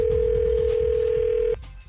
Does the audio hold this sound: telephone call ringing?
yes